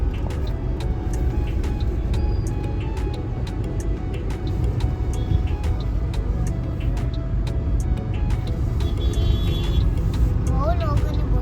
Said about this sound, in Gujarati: આ છે અહીંયાની ટ્રાફિક.